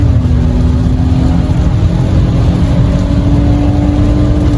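A front-wheel drive car accelerating in third gear on a rainy highway gives a loud, steady engine drone with a constant hum and broad road-and-spray rush throughout, with no talking.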